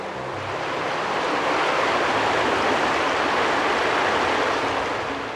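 Big Creek in Arkansas flows with a steady broadband rush of water, loud and close, swelling slightly then holding even for several seconds.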